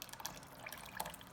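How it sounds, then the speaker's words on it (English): Canned tomatoes from a whole can pour into a pot of cowboy ranchero beans, a soft wet glugging and splattering trickle with a few small plops, quiet and close, with no talk. "you can use canned. Pour that in, the whole can."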